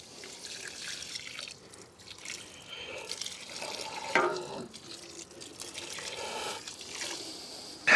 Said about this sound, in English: Last but not least, give it a good water.